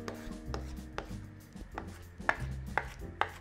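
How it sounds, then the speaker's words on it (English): A knife chops cilantro and parsley on a kitchen countertop with about seven crisp, close taps in an uneven rhythm, quiet and alone. "take some cilantro and parsley and just start chopping it up to get it thin"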